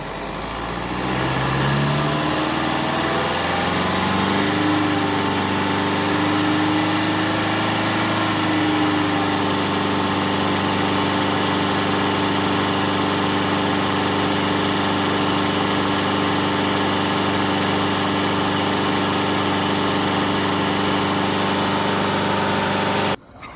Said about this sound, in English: So we're going to rev it up to 3000 RPM.